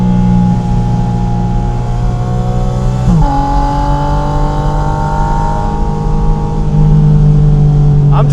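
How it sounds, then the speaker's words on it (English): Porsche Spyder RS engine revving on a street, a loud sustained mechanical drone that climbs in pitch, drops briefly at a gear change, then rises again, steady and close throughout with no talking. "I want to give you a little taste of what this engine sounds like."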